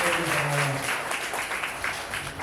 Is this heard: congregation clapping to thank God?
yes